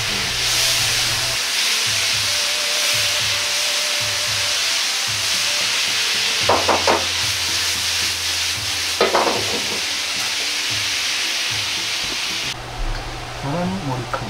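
Pork and bamboo shoots stir-fried in ginger sauce in a hot pan: a loud, constant hiss and sizzle broken by a few scraping stirs, with no one speaking.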